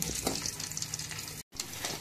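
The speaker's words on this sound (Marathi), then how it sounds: "आपण हे टाकले मोहरी थोडीशी तेलात, त्यानंतरला लसूण" Mustard seeds and garlic sizzle in hot oil in a pan, a steady close crackling hiss with small pops, briefly cut out for a moment partway through, no talking.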